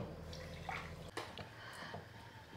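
Water poured from a cup into an equal measure of sugar in a pan while making Bombay (Karachi) halwa, a steady close splashing and trickling lasting a few seconds with no talk.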